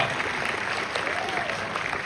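Steady, dense applause from an audience at a film premiere in Los Angeles fills the room continuously, loud and even throughout with no pauses.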